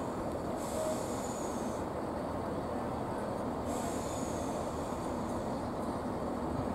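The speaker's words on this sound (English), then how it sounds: "here is a nice shot of old versus new, as a class 171 heads into the station" A British Rail Class 171 diesel unit runs into a station, a steady low rumble with faint high wheel squeals rising briefly, heard from a distance and without talk.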